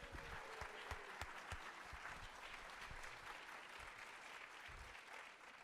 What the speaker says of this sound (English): How about a round of applause for all you?